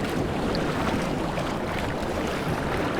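Rough water slaps and churns against a wild rocky shore around a kayak, a loud continuous wash of waves with wind buffeting the microphone and no talk.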